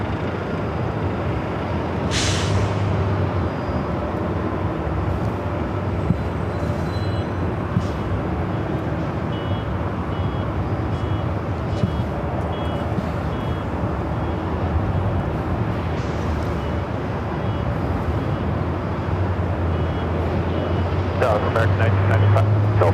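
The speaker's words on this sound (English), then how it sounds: "Delta Airlines flight 1194, 737-900 ER." A Delta Airlines Boeing 737-900ER jet at LAX, heading for Salt Lake City, gives a broad steady roar that holds for the whole stretch, with faint brief voices and radio chatter over it.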